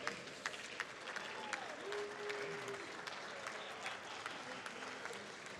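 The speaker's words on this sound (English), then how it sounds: "let's give these guys a round of applause" At a heat race of the Radical World Finals, a crowd gives race winners a faint, distant round of applause, with scattered claps over a murmur of voices and a brief tonal sound.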